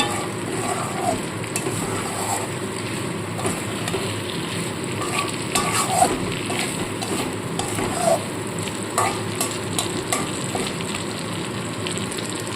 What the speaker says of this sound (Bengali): এক মিনিট মতো আমি একটু কষিয়ে নেবো শুধু মশলার সাথে